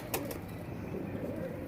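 A slim, tightly built pigeon gives soft, low cooing at close range, faint and steady under a quiet background with no talk.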